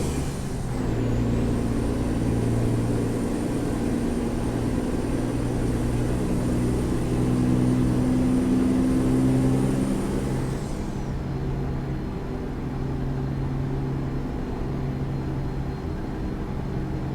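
A heavy truck in American Truck Simulator slows hard, carrying an 8,000-pound load, with a steady low engine and road drone. A high whine fades out partway through, and the sound continues as a continuous near rumble with no talking.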